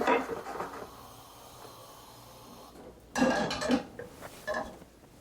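A spatula scrapes orange sauce from a pan in a home kitchen, soft scraping at first, then a louder burst of clattering scrapes near the end.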